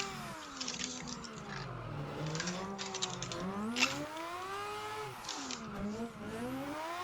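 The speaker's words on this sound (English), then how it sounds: "Slow the car down a bit as it gets tight here." Mazda RX7 rotary engine on a track, revving up and down as the car slows into tight corners and accelerates out in second gear, heard close with rising and falling pitch and bursts of higher-pitched noise.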